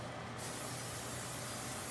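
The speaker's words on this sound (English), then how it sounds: "It's gonna spray my pan with some just regular old cooking spray" Regular cooking spray hisses steadily onto a pan for about two seconds, a continuous close aerosol spray.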